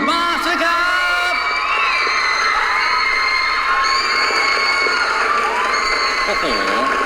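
Audience at a live show cheering and applauding for a band, loud continuous crowd noise with shrill shouts and whoops, high excited voices rising and falling over steady clapping.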